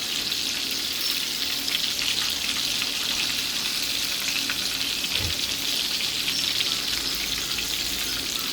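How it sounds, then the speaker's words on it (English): Hot and spicy shrimp frying in oil, a steady, loud, dense sizzle that holds throughout with no talk. "I'm going to quickly fry up the rest of these"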